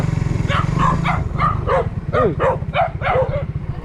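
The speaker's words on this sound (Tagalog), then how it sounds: "Yan na ang aso." Dogs bark repeatedly in short, sharp bursts over a loud, steady engine drone close by, with a brief voice in between.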